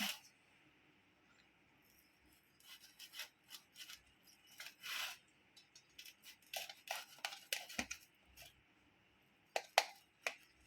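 Knife cutting through a cooked kalathappam rice cake, giving soft scraping and rasping strokes that start faint, then come in irregular bursts of short cuts and slices at close range with no talking.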